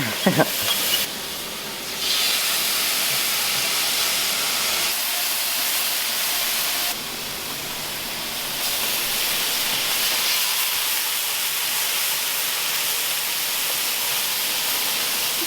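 Fish pieces frying in an oiled non-stick pan, a loud steady hiss and sizzle close up, swelling at times as pieces are added, without speech.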